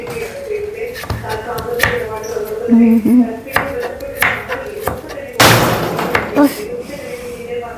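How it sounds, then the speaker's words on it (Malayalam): A door closes in a home kitchen with a single loud, broadband thud about two-thirds of the way through, amid scattered tapping and kitchen clatter while a person talks. "ഡോർ അടയ്ക്കുന്ന സൗണ്ടാണ്"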